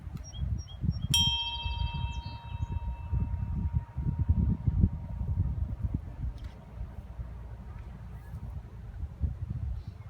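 A ceremonial wedding bell struck once, a bright clear ding that rings on and slowly fades over outdoor wind and low rumbling background noise.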